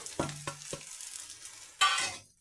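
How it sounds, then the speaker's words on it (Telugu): Spices being tipped into a pan of aloo paratha potato filling and stirred, a few short scraping strokes followed by a louder burst of scraping and soft sizzle near the end, with no voices. "ఇప్పుడు ఈ మసాలాలన్నీ వేసేద్దామండి ఇందులో."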